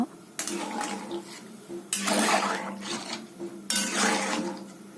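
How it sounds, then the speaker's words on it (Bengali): A metal lid clatters onto a cooking pot of boiling taro, with a few bright clanks and rattles separated by pauses, close and fairly loud. "এবার ঢাকনা দিয়ে কিছুক্ষণ রেখে দেব সিদ্ধ হওয়ার জন্য"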